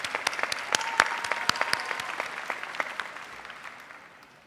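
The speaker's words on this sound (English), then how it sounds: "Give yourselves a big round of applause for that accomplishment" A graduation audience at Sam Houston High School's 2017 ceremony breaks into loud, sustained applause, dense clapping with sharp individual claps standing out before slowly tapering off.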